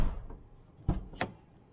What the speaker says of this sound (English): Let's see if I can open the door.